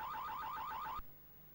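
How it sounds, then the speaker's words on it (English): A security alarm in the Amiga video game Mean Streets wails in a fast, repeating rising-and-falling electronic siren, loud and steady for about a second before cutting off abruptly into quiet. "When I enter the room, the door shuts behind me, setting off a security alarm."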